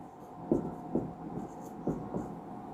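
Writing on a board during a maths lesson on profit and loss: four soft, faint strokes at irregular intervals over a low room hum, with no speech.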